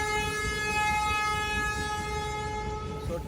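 A train rumbles steadily past at close range, a dense wash of rail noise with a sustained horn-like tone running throughout and a brief squeal near the end, with no talk.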